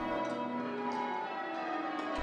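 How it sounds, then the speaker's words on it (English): Bells of St. David's Cathedral in Hobart ring together in a sustained, harmonious wash, with a few fresh strikes standing out over the ringing tones. "The bells of Hobart's St. David's Cathedral make it clear. They're loud, harmonious, and here to stay."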